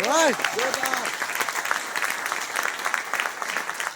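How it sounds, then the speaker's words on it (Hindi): Audience clapping at a motivational talk breaks out right after a brief spoken line, then continues as steady, moderately loud applause from a room full of people. "आइए सर, ताली बजाओ"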